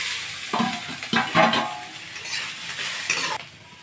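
Onion, prawns and boiled potato sizzle in a hot pan as they are stirred, with scraping and clinks of a utensil against the metal.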